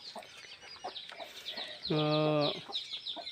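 Chickens cluck in scattered short notes, with one louder drawn-out squawking call midway; the sounds are moderately close against a quiet yard.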